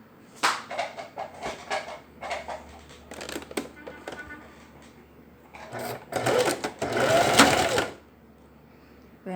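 Sewing machine stitching with a short 1.5 stitch length in contrasting thread, reinforcing an inseam pocket: bursts of rapid mechanical whirring, starting and stopping, with a long steady run near the end.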